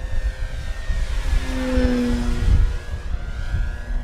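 Dynam PT-17 1300mm RC biplane flying at full throttle, its electric motor and propeller droning steadily with a rising and falling pitch as it passes through tight steep turns, fairly close with no voices.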